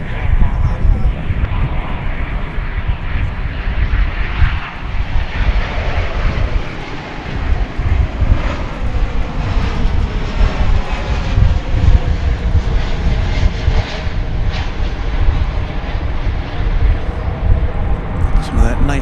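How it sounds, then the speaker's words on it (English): Boeing 777-200ER jet airliner on final approach into DFW Airport after a flight from London Heathrow, a steady, loud engine roar that holds throughout with a person talking over it. "bring you the arrival of American Flight 21. It's a 777-200ER. Now on final from London Heathrow."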